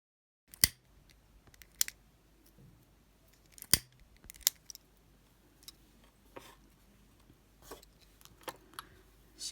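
Sharp, isolated snips of scissors cutting macrame cords while making a floral leaf bracelet, about a dozen clicks spaced irregularly across a quiet background, close and crisp.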